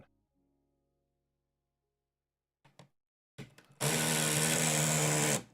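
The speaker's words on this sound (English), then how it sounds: "that sound is the torque limiter on the drill" A power drill used during a PC build runs loud and steady for about two seconds, its torque limiter slipping, after a few brief clicks and handling noises in an otherwise quiet room.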